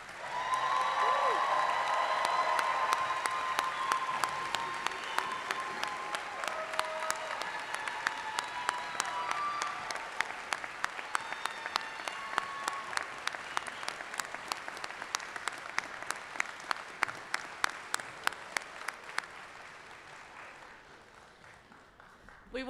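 A commencement crowd at SIUE's 2024 spring ceremony gives graduates a sustained round of applause, dense and steady at first, then thinning to scattered individual claps that fade out over about twenty seconds.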